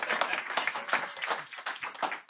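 An audience at a Left Forum presentation on prison and rebellion claps and applauds after the talk. The clapping is dense, lively and fairly close, with uneven bursts rising and falling through the whole short stretch.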